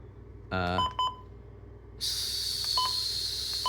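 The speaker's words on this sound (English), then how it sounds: "So you can turn this button beep off" A few short electronic button beeps from a Midland WR-120EZ weather alert radio sound near the start, then a steady high-pitched tone takes over, with more brief beeps under it.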